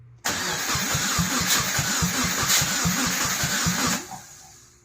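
A Subaru Impreza engine, freshly reassembled, cranks with a rapid rhythmic chugging from the starter for several seconds, loud and close, then stops without catching.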